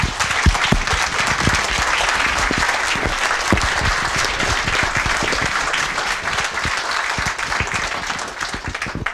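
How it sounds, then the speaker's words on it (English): A debate audience breaks into sustained applause, dense rapid clapping from a large crowd that stays loud and even before tapering slightly at the close. "can we give one big round of applause to our"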